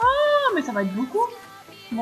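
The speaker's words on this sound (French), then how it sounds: "Oh, c'est un chat, finalement" A cat meows loudly in a video game, drawn out and wavering, with a person speaking briefly around it.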